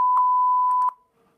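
A sensor beep in the video game Five Nights at Spy's: one steady high electronic tone held for about a second, loud and clean, with small clicks over it before it cuts off into near silence.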